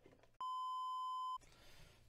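A single pure electronic beep, a steady tone lasting about one second, loud and clean, standing out sharply against quiet room noise before and after.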